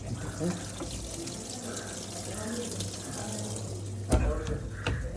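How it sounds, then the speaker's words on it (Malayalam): Water pours steadily into a washing machine drum as a continuous hiss, fairly faint, with a brief louder splash near the end and a voice talking in the background. "വെള്ളം വരുന്നുണ്ട്."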